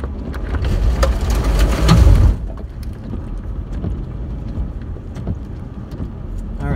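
Jeep engine rumbling in second gear while driving off-road, a loud broadband burst in the first couple of seconds settling into a steady lower drone with clunks and knocks from the rough trail.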